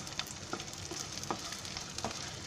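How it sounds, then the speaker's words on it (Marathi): Edible gum (dink) frying in oil for methi ladoo, giving a soft steady sizzle with occasional light stirring clicks and pops, close but quiet, no talking. "तो असा भाजून आहे ना तळून असा चांगला फुलतो तेलामध्ये"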